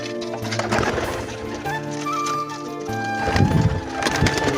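Large French-breed pigeons coo in low, throaty bursts close by, over a steady background of noise and ringing tones.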